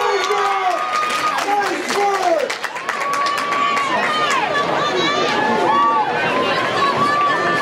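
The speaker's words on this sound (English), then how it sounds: "The crowd was going crazy there." Crowd at a KHSAA 3A state high school track meet cheers and screams loudly and continuously as a girls' race finishes, with whistles and shouts rising above the roar and an announcer's voice faintly underneath.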